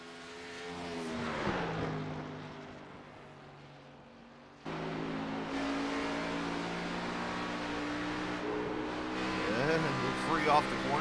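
A race car's engine rises and falls as it accelerates off a corner at Iowa Speedway during the Donate Life 130, a strong revving drone that fades then surges back, heard beneath steady race commentary.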